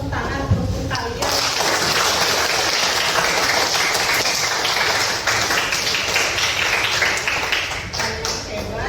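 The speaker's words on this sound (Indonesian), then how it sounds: "Sekali lagi tepuk tangan untuk kalian." A classroom of students applauds with loud, dense, sustained clapping that continues for several seconds, while voices speak over it.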